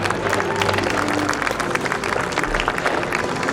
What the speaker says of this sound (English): a big round of applause for all the teams